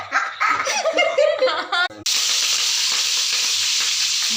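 A voice speaks and laughs briefly, then onion and chillies hit hot oil for a tempering and a loud, steady frying hiss takes over close by.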